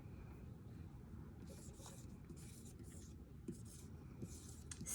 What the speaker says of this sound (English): I'll write my answer down and see if you've got the same one.